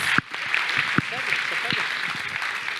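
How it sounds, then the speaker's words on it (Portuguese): Applause at an education forum: a wash of crowd clapping beneath a voice speaking over it, with a few short vocal sounds breaking through. "Palmas, gente."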